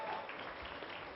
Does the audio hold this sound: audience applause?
yes